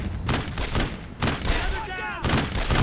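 Brothers in Arms wartime shooter combat: dense bursts of gunfire and heavy thuds repeat through the clip, loud and close, with voices talking over the shooting.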